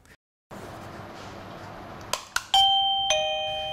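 A DIGOO DG-SD20 self-powered waterproof wireless doorbell rings out with a couple of clicks followed by a clear two-tone chime, moderately loud over faint background hiss.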